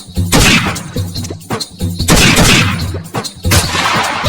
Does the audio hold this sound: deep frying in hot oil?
no